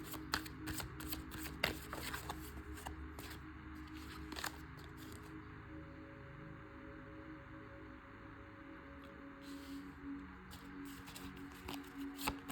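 A deck of tarot or oracle cards shuffled by hand, a rapid run of crisp close riffling clicks, a pause, then another brief burst of shuffling, quiet overall.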